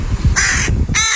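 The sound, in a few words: bird, a crow, making noise on a car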